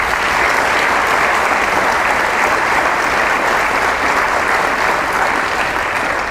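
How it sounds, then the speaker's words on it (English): An audience applauds guests at a Knox County government budget event, a dense, steady wash of clapping from many hands that holds at full strength throughout with no pauses. "So could we please give them a round of applause?"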